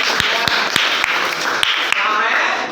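Classmates in a ninth-grade classroom clap together in a brisk burst of applause, with sharp individual claps standing out over the crowd and the room fairly close and loud.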